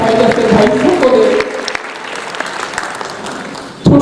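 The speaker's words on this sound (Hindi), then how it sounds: "थैलेसीमिया फेडरेशन के लिए भरपूर तालियां बजाएं।" Audience applause at a thalassemia federation event, loud and dense at first, then thinning to a lighter patter before a brief burst of clapping at the end.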